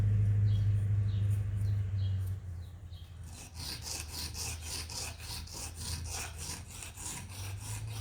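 Hand sanding of a custom harp button gives a steady, rough abrasive rasping that carries on without a break, louder at first and then softer, with no talking.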